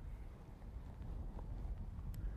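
Low, soft wind rumble blowing across the microphone outdoors during bass fishing, faint and steady with slight gusting; no talking.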